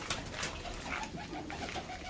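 A Zira plain pigeon coos repeatedly nearby, soft rolling calls in a loose rhythm over light background rustle.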